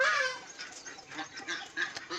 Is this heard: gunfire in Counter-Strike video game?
no